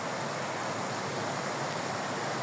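Hot river water flows steadily in a broad, continuous rush, with no voices or other distinct events over it.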